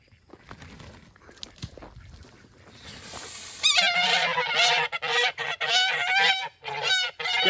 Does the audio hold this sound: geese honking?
yes